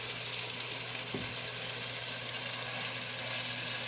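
Chicken alfredo left to brown in a hot pan, a steady close frying sizzle holding evenly throughout with one brief utensil tap.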